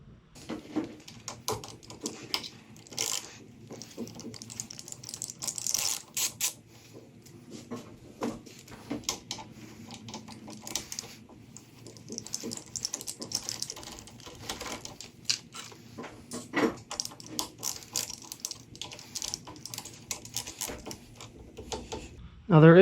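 An Allen wrench on a ratchet loosens the 1/4 inch handlebar bolts of a 2021 Harley-Davidson Road Glide Limited, giving faint, rapid clicking bursts and small metallic taps scattered throughout.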